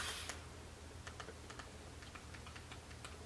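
Quiet keystrokes on a computer keyboard, tapped in a loose, irregular rhythm over a steady low hum, close and fairly soft.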